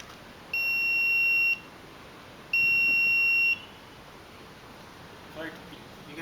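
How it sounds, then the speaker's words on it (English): Buzzer alarm on a microcontroller-based emergency braking system signals a disc brake failure: two steady electronic tones, each about a second long, separated by a short gap, loud against quiet room noise. "the buzzer is mounted to the microcontroller, which indicates whenever the disc brake failure, it will give the sounding alarm"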